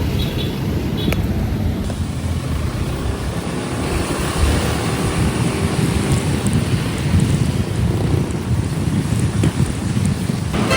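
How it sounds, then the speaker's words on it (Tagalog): Steady rain falls outdoors, a dense constant hiss and patter mixed with gusty wind rumble against the microphone, loud and unbroken throughout. "It's raining again."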